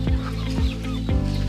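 Free-range native chicken pullets clucking in repeated short bursts at a steady rhythm, fairly close and loud, with no talk over them.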